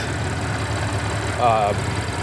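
A supercharged car engine runs smoothly at a steady idle, close by and even, with a brief whine rising over the rumble partway through.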